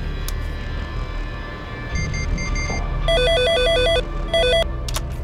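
A telephone rings repeatedly in trilling electronic bursts over a noisy, rumbling background, the rings growing more insistent toward the end.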